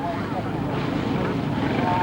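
A 4-stroke Honda motorcycle drones steadily at a 1999 scramble race, a constant engine rumble with a commentator talking over it.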